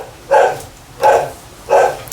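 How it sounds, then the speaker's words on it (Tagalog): A dog barks three times in a steady rhythm, each bark short and clear at moderate distance, with quiet background between them. "pasensya naman sa naglalagaring kahol ng aso"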